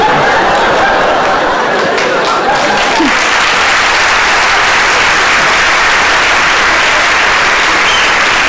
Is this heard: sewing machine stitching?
no